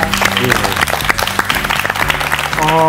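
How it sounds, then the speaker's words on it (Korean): Studio audience applause at a KBS lecture broadcast, thanking a guest speaker, a broadband clapping wash that sounds steady and fairly loud throughout, with some tonal music rising near the end. "큰 박수 부탁드리겠습니다"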